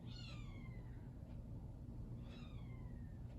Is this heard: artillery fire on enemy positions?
no